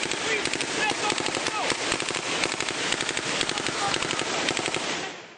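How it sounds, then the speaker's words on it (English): Rapid small-arms gunfire crackles almost without pause during a Taliban ambush in Afghanistan's Korangal Valley, dense bursts of loud shots layered over one another from start to end, with faint voices mixed in. "the Taliban begins an ambush with small arms fire and rocket-propelled grenades"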